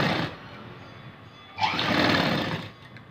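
A tailor's sewing machine runs close and loud, stitching a blouse in two bursts separated by a quieter stretch of lower whirring, with no talk.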